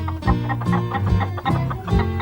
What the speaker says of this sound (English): I saw 3 naughty hens who tried to steal my sandwiches.